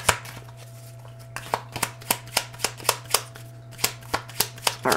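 Tarot cards being handled and shuffled, about a dozen crisp, evenly spaced flicks and slaps close to the listener over a low steady hum, with no talk.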